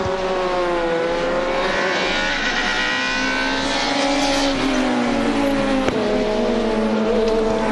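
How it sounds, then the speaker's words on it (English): Touring race cars from the 2006 WTCC round at Curitiba, Brazil, roaring loudly as the field restarts under green flag, several engines revving and accelerating together with rising, overlapping tones and a continuous close, dense engine blare. "Ready to go, green flag racing with 2 to go at Curitiba"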